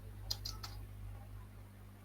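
A few quick, faint keystrokes tap on a computer keyboard, three light clicks in close succession followed by a quiet hum of room noise.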